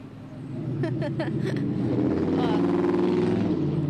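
Big trucks rumble along a loud city street in a deep, steady engine drone that builds and swells through the clip, with brief chirping squeals early on.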